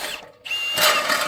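A power drill drives a 3-inch construction screw into lumber, a short whirring motor burst that dips briefly and then ramps back up loud and close.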